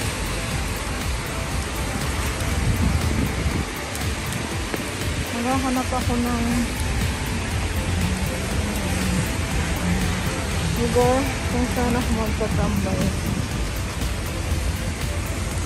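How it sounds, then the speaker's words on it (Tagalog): Heavy rain pours steadily onto an umbrella on a city street, a dense, continuous wash of sound while a person talks over it. "Grabe ang lakas ng ulan."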